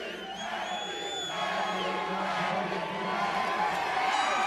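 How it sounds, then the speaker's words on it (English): A motocross crowd at the RedBud National chants and cheers for rider AP, a sustained, rowdy mass of voices heard from a distance, with shouts rising above the roar. "AP chant going."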